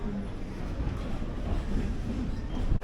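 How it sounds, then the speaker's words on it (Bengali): A Kolkata local train rolls into platform 4 at Sealdah station, giving a continuous low rumble and rattle of carriages at steady volume before cutting off abruptly. "আমাদের ট্রেন ঢুকছে শিয়ালদার 4 নম্বর প্ল্যাটফর্মে"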